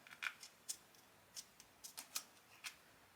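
Scissors snipping excess leather off the front of a leather-over-Kydex knife sheath, a series of about ten short crisp cuts in uneven rhythm, close and quiet with no talking.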